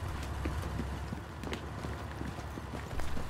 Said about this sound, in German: man hörte kurz darauf Schritte.